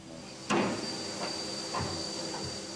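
A steam locomotive heads an express train standing at a station platform, with a sharp hiss at the start and softer bursts of steam and rail sounds after it against a steady background hum.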